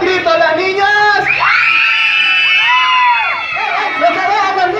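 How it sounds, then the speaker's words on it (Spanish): A crowd of girls screams together, loud and sustained, at a children's day celebration, their shrill voices rising and bending over a few seconds. "¡Vamos a gritar! ¡Un grito a las niñas!"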